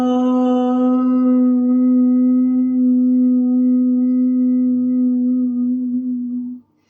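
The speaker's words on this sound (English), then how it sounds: "So all I've done is I said ah, but I've gradually closed my mouth." A single sustained chanted "ah" from one voice, held for about six seconds, with the tone darkening and narrowing as the mouth gradually closes, then stopping abruptly.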